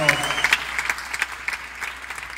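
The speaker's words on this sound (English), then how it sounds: "Give them a round of applause." Applause from a rally audience in Kenya, a dense wash of many hands clapping, moderately loud and steady, with faint voices mixed in.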